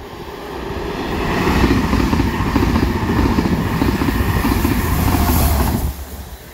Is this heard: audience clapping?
no